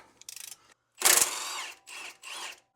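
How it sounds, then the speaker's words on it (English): Ratchet loosening the lower shock bolts on a Jeep Gladiator: a quick run of close clicks, then several louder separate mechanical bursts with short pauses between them. "we need to remove our lower shock bolt on either side"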